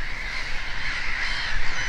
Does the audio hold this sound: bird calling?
yes